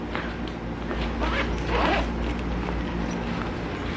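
The zipper on a medical technologist's everyday work bag being pulled open, a close scratchy rasp that swells briefly in the middle over a low background hum.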